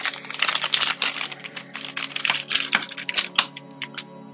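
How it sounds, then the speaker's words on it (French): Plastic packaging around Apple Watch straps being torn open and unwrapped quickly, a dense run of close crinkling and crackling with sharp snaps, continuous and fairly loud with no talking. "On va éviter le bruit du plastique, on va déballer tout ça vite."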